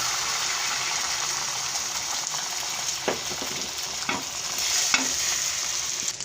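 A beaten egg sizzles in a hot pan for an anda burger, a steady frying hiss broken by a few soft scrapes and taps as it is stirred.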